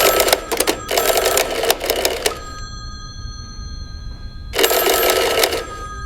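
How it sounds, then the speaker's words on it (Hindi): An old-style telephone bell rings in two long bursts separated by a pause, loud and close, with the metallic ring fading briefly between them. "फ़ोन की घंटी बजी।"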